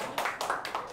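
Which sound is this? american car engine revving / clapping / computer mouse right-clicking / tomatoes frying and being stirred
clapping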